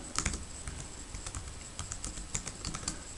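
Fingers typing on a computer keyboard, a fast irregular run of light clicking keystrokes close by, quiet and steady with no talking.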